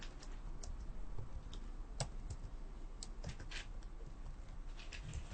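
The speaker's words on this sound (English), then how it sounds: "Don't mind my typing" Keys on a computer keyboard click in an uneven run of light taps, some quick and some spaced out, soft and close, with no voices.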